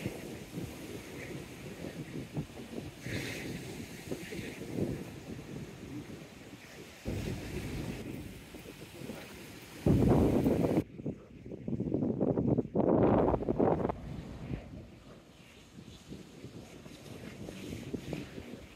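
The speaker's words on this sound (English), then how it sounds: "it was the noise of the wind." Strong wind buffets the microphone outdoors near the sea at high tide, a steady broadband roar with heavy low rumble that swells into louder gusts midway, mixed with waves washing on the shore.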